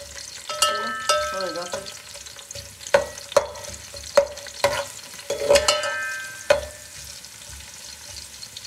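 Onions sizzle in hot oil in a pan while being fried lightly golden for chicken Kabuli (Afghani) pulao, with a spoon repeatedly clacking and scraping the pan every second or so over a steady close frying hiss; a few words are spoken briefly.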